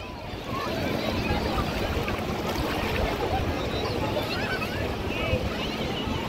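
Sea water splashing against a boat on a family trip off the coast at Alibaug, continuous rushing wash and wind noise close to the microphone.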